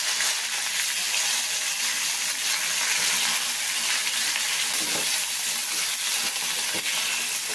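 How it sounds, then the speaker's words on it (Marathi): Boiled drumsticks fry in oil with curry leaves, giving a constant, moderately loud hissing sizzle with a couple of soft knocks from stirring near the end. "छान आधी तेलात असा परतवून घ्यायचा आपल्याला।"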